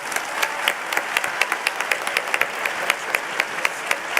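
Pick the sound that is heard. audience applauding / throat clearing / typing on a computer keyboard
audience applauding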